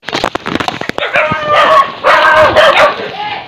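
A dog barks several times in quick succession at a passer-by near a house in the Philippine countryside, then lets out longer whining yelps, loud and close.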